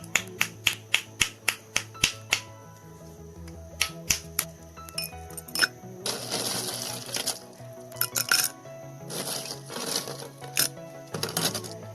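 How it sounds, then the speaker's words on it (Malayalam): Ice cubes drop into a glass for a virgin mojito: a quick run of sharp, bright clinks and clicks, then a denser rattle and clatter as more cubes tumble in, close and loud, with no talking. "ഇതിലേക്ക് നമ്മൾ ഐസ് ക്യൂബ്സ് ഇട്ട് കൊടുത്തിട്ട് നമുക്കൊന്ന് സെറ്റാക്കി എടുക്കാം"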